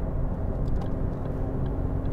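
A 2013 Ford Focus 1.6 TDCi ECOnetic cruising at about 70 mph gives a steady, low road and engine drone heard from inside the cabin. The rumble is even and continuous, with no voices.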